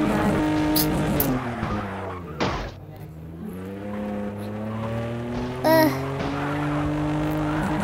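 Loud tire squeal and engine roar of a car skidding in a video game crash test, with a sustained screech, a brief impact thump midway and someone talking over it.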